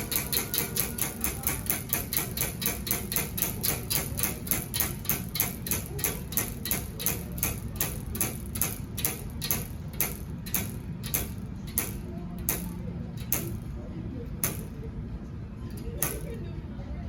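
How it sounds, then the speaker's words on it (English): A prize wheel at a Spirit Halloween store carnival display spins with rapid, evenly spaced ticks that gradually slow and space out before stopping, over a noisy store background. "spin the Wheel of Fate to see what I get"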